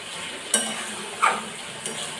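Mutton liver being slowly stir-fried into kosha in an uncovered pan: a soft, low sizzle throughout with a few brief scrapes or clinks of the spatula against the pan, close and fairly quiet.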